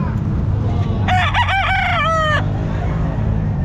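An Apatche game fowl rooster at the Baliwag pet market lets out one loud, close crow lasting just over a second, over a steady market background hum.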